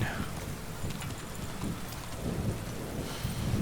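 Steady rain pours with low thunder rumbling underneath in the medieval game Kingdom Come: Deliverance 2, a continuous, fairly quiet wash of sound throughout with a faint voice in the mix.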